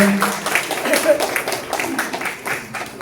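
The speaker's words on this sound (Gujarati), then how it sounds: "લલિત ખંભાળિયાને જોરદાર તાળીઓ જાય" Audience applause welcoming Gujarati writer Lalit Khambhayata onto the stage at a talk event in Rajkot, a steady patter of many hands clapping throughout with a voice briefly audible underneath.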